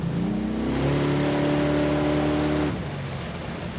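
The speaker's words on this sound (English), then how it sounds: "Chirping around every corner in a parking lot. Yeah. I like the noise." A Dodge Dart with a 440 engine revs up hard, a loud, close, rising engine roar that holds steady for a few seconds before dropping off, with no talk over it.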